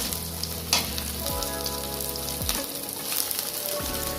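Steady, close sizzling of paneer frying lightly in a hot pan, with occasional low clunks and scrapes of stirring; no voices.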